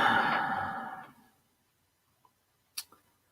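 An animal snoring nearby: one long, loud, breathy exhale that fades over about a second, followed by a couple of faint clicks in near silence.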